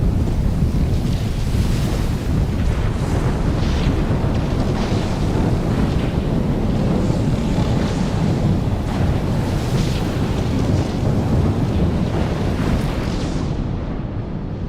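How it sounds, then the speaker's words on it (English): A massive sandstorm roars in Dune Awakening, a loud, steady blast of rushing wind and buffeting noise that barely lets up for the whole stretch. "Yeah, that's a big fucking storm."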